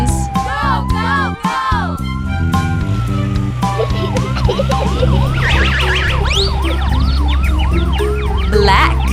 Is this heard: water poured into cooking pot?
no